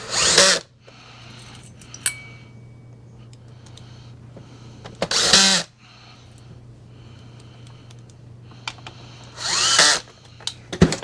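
A power drill drives screws into an Oreck Elevate UK30300 upright vacuum cleaner during a repair: three short, loud whirring bursts, separated by quieter handling noise and a steady low hum.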